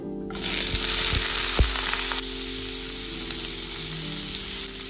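Boiled ingredients hit hot oil in a pan with a loud, steady sizzle that starts abruptly and carries on, with a few soft knocks of a utensil beneath it.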